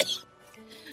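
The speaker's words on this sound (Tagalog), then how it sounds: "Ang sama ng tunog ng ubo mo." A single harsh, rough cough from a sick person, short and close, with faint room sound trailing after.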